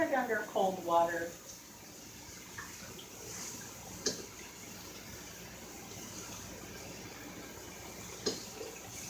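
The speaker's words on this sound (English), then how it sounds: "Run it under cold water." Cold tap water runs over freshly cooked pasta in a pot at a kitchen sink, a faint steady stream after some speech at the start, with a couple of light clinks.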